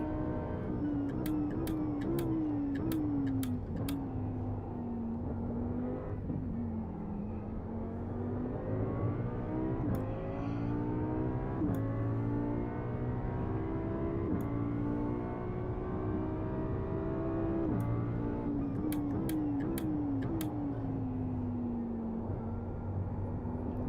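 An Audi GT3 Evo2 race car at Spa, heard from onboard, drones steadily with engine pitch climbing and falling through gear changes, easing off briefly before accelerating hard again, loud and continuous for the whole stretch.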